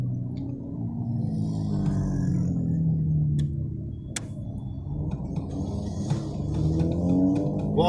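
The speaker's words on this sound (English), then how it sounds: "Rev her up, buddy, rev her up." A rally car engine revs loudly and continuously at a Donegal rally stage, a strong low droning growl with rising and falling pitch, heard close and alone without talk.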